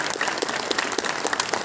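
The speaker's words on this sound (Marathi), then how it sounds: "जोरदार टाळ्या झाल्या पाहिजेत मोहन जोशी सर यांच्यासाठी." A dense burst of audience clapping at a Marathi film festival in Goa, brief and lively, with many hands applauding close together.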